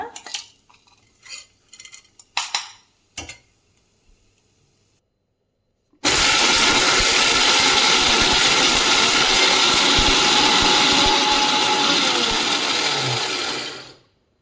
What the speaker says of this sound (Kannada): ನಾವೀಗ ಮಿಕ್ಸಿ ಜಾರ್ಗೆ ಹಾಕ್ಕೊಂಡು ತರಿಯಾಗಿ ರುಬ್ಕೊಂಬರೋಣ